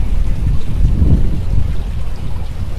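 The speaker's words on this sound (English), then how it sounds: "because there's that water dropping into a basin far below actually creates a ton of falling noise" Water from an outdoor fountain falls into a basin below, making a steady, dense rushing splash that stays loud and close throughout with no voices.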